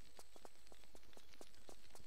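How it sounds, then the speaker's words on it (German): Footsteps in Tomb Raider 3, a steady run of soft, evenly spaced taps, about four per second, faint against a constant hiss of background noise. "Irgendwelche Schritte."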